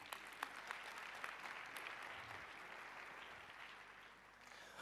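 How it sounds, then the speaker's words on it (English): Audience at a business conference panel session claps steadily in a dense, moderately distant wash of applause with a few sharper individual claps, holding for about five seconds before easing slightly. "please can we give our panel a big round of applause"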